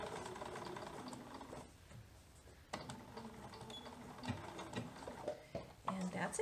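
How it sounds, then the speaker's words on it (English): Sewing machine stitching a baby dress with raglan sleeves and elastic, running in short rapid bursts with a brief back stitch, close and fairly quiet, with speech over parts of it. "I'm stitching right on my old stitches, but I'm going to go ahead and do a little back stitch."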